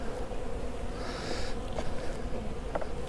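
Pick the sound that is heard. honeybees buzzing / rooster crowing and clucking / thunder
honeybees buzzing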